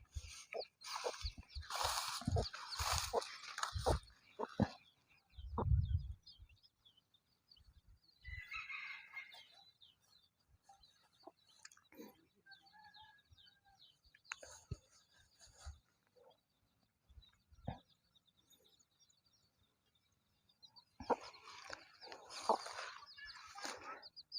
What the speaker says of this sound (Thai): พาพี่น้องมาเบิงไก่แม่ลูกอ่อน กำลังพาลูก เคลียกินเหงื่ออยู่